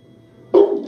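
A pet dog barks at its own reflection, one loud close bark ending in a short whining tail after a moment of quiet room tone.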